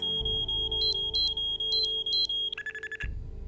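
Repeating electronic alarm beeps in the Nancy Drew game Treasure in a Royal Tower, a steady high tone pulsing in short bursts over a low rumble, then shifting pitch briefly before cutting off.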